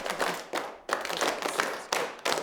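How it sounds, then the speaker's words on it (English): A group of music students claps in unison in a classroom, sharp clustered hand claps landing in short uneven bursts of rhythm, close and fairly quiet, with brief gaps between phrases. "clap the rhythm independently and also clap the pulse"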